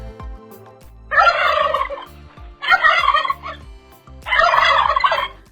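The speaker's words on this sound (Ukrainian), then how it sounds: "Правильна відповідь індик." Three loud bursts of turkey gobbling, each a rapid warbling call about a second long, separated by short pauses.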